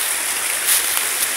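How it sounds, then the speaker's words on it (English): Waterfall on a nature walk, heard as a steady, bright broadband rush of falling water with no pauses, continuous and fairly close throughout. "look at the waterfall"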